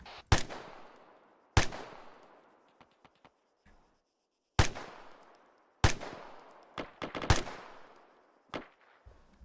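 Gunfire in the military video game Arma 3, a handful of sharp, loud rifle shots spaced a second or more apart, each trailing a long echoing decay, with a few faint clicks between them.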